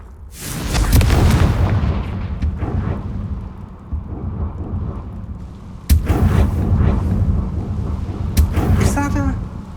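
A Confringo fire spell goes off in Hogwarts Legacy, making a loud, rumbling explosive boom that swells, fades and then bursts again. Game music and a voice sit underneath the blasts.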